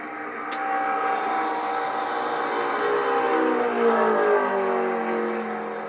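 A NASCAR Xfinity Series race car on a qualifying lap at Homestead-Miami howls at high revs, the engine note droning steadily and then sweeping in pitch as it passes, loud and sustained.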